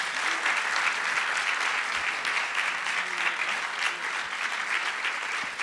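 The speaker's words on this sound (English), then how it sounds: "Please join me in giving our esteemed panelists a big Mercer Law round of applause." Applause from an audience at a law school event celebrating panelists, a continuous, even wash of many hands clapping, moderately distant and sustained throughout.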